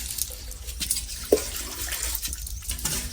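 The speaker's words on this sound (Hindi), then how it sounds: "सबसे पहले पानी डालना पड़ेगा ट्यूबवेल में" Water poured into a tubewell to prime it, splashing and gurgling irregularly, with a sharper splash near the middle, nearby and with no talk.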